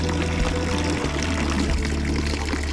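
A public fountain in Montreux pours water in a loud, steady, close-up splash that runs without a break.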